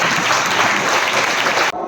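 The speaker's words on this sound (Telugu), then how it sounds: "ఒకసారి పెద్ద ఎత్తున వారు చప్పట్లు కొట్టండి" A crowd claps loudly at a public gathering honouring a man on a padayatra, a dense steady burst of applause that runs nearly two seconds before cutting off abruptly, with no voices over it.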